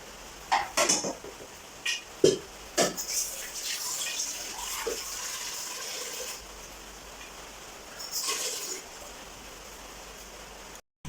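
Pieces are stacked one by one into an idli steamer pot on the stove, giving several sharp metallic clinks and clatters close by, then a quieter stretch with a few more knocks near the end.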